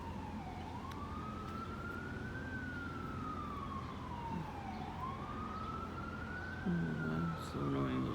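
An emergency siren wails in slow rising and falling sweeps, fairly distant, over steady street noise with a few brief bursts near the end.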